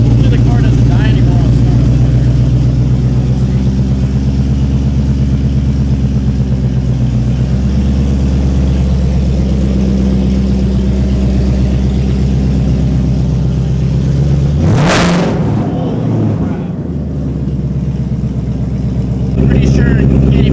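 A boosted 5.0 car engine with a newly repaired fuel system drones steadily while driving, then surges in a sharp rev near the end. People talk over the engine throughout.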